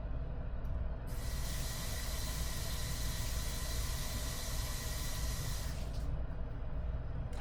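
Tap water runs steadily while hands are rinsed in a home kitchen during salmon and rice preparation, a continuous broad hiss that swells louder for several seconds then eases back, with no talking.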